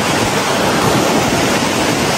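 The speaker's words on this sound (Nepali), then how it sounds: "यस्तो खोला झरनाहरू हामीले प्रशस्त मात्रामा देख्न पाउँछौँ" Mountain stream and waterfall on the Tilicho Lake trek in Manang, a loud, continuous roaring rush of water filling the whole scene with no other sounds.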